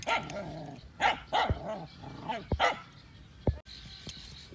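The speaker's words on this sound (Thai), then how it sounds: "ไอพวกนี้แหละครับเห่านะครับ" Dogs barking in short loud bursts, several sharp barks spaced unevenly with a growl between them, close by, outdoors around a vehicle.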